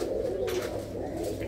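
Pigeons kept by a fancier in a village near Amritsar coo in a low, continuous murmur throughout, steady and close with no talking over it.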